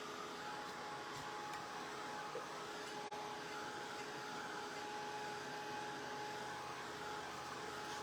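A handheld heat tool blows hot air to dry decoupage paper on a glass bottle, with a loud, steady whirring hiss that runs unbroken from start to end and no talking.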